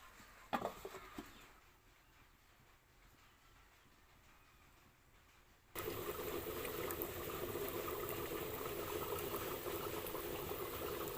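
Gravy for an egg and new-potato curry boils in a pan. Several seconds of low background hush give way to a sudden loud, continuous bubbling and sizzling that carries on to the end.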